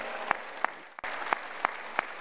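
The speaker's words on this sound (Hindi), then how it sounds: "चलो भाई, अवनीश के लिए जोरदार ताली बजा दो" Steady applause from an audience at a yoga and pranayama session led by Swami Ramdev, with a brief break near the middle before it resumes, carrying a few sharp, loud claps.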